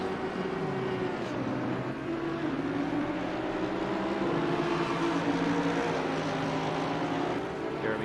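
BMW race car lapping Bathurst in Assetto Corsa Competizione, a continuous loud engine drone with shifting pitch as it holds speed, several cars blending in the background.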